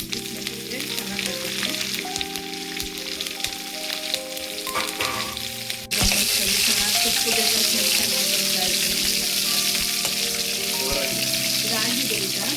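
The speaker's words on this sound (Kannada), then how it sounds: "ಸಾಸಿವೆ ಹಾಕ್ತಿದ್ದೀನಿ, ಸ್ವಲ್ಪ ಜೀರಿಗೆ ಹಾಕ್ತಿದ್ದೀನಿ, ಸೊಪ್ಪು ಹಾಕ್ತೀನಿ, ಸ್ವಲ್ಪ ಬೆಳ್ಳುಳ್ಳಿ ಹಾಕ್ತೀನಿ." Mustard seeds, cumin, greens and garlic hit hot oil for a tempering: a crackling sizzle that jumps sharply louder midway as more goes into the pan, with stirring and faint clatter, close by and with no talking.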